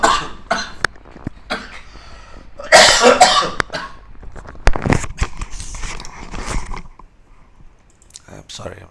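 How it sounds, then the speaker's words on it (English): A few bursts of coughing and throat clearing come through, mixed with scattered clicks and light tapping at close range. "I'm still getting the cough."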